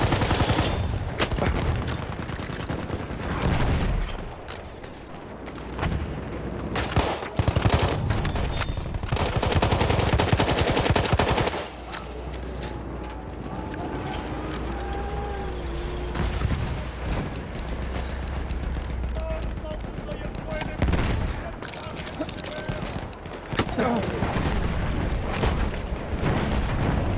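Rapid machine-gun bursts and scattered rifle shots in Battlefield 1's Suez Canal operation, mixed with booming explosions and battle noise. The fire is dense and nearly continuous across the whole stretch.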